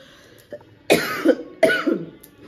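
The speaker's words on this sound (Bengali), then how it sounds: "হালকা হালকা কাশি হচ্ছে আমার" A person gives two short, mild coughs close to the microphone, with a faint throat sound just before them.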